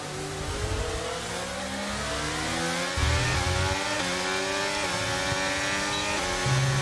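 An F1 race car in the game F1 23 accelerating hard out of an off-camber corner, its high-pitched engine note climbing steadily through the gears with brief shift breaks, loud and close.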